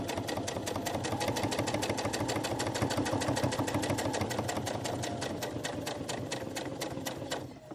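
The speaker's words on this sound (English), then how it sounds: "So I'm going to sew all the way around the edge." Sewing machine stitching all the way around the edge of fabric for an elastic-closure cable wrap, a loud close rapid mechanical chatter running steadily without pause, stopping abruptly at the end.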